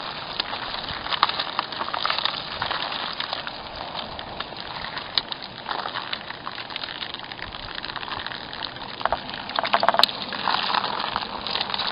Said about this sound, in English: Let out the water, some water.